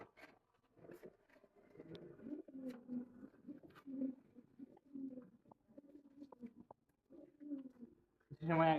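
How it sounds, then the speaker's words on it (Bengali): Pigeons, a kept fancy breed, coo in low, soft, rolling calls close by, repeating through the stretch, with faint handling noises and a louder burst at the very end. "আর আরেকটা কবুতর আপনাদের দেখাবো"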